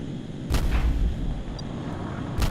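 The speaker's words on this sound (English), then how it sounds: "Okay, fast shots going in." Gunfire and missile fire from a land-warfare battle in the video game Kerbal Space Program, with two loud booming shots about two seconds apart over a steady rumble.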